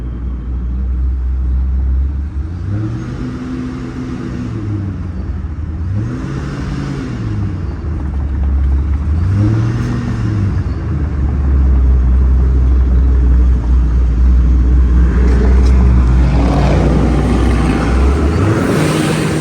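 Procharged Pontiac G8 GT and Chevy SS V8s rev downtown, loud and close, with a deep steady rumble rising and falling in repeated throttle blips, then swelling into a heavier sustained roar toward the end.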